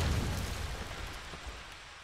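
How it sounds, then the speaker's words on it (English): A grenade detonation in Call of Duty 2 on the Dawnville map lands as a low, muffled boom at the start, then decays into a rumbling tail that fades over two seconds. "Kasper is gonna toss a nade over towards the hobos."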